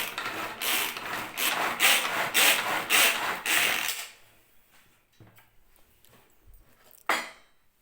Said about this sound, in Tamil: நான் வந்து இந்த சாப்பர் தான் யூஸ் பண்ணுறேன்.